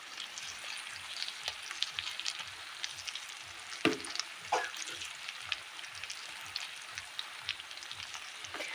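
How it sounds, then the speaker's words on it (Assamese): Potatoes and pork frying in a pan, a soft continuous crackling sizzle with a couple of brief sharper pops, faint and steady throughout. "আলু আৰু মাংসখিনি ধুনীয়াকৈ ফ্ৰাই হৈছে।"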